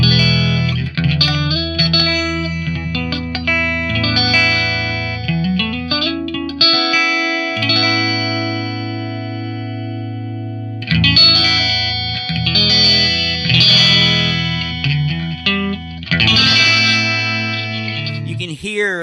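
An electric guitar runs through a High Freq prototype pedal, sounding saturated and effected with lingering sustained chords and note runs, a brief dip near the middle, and a spoken voice present over the playing.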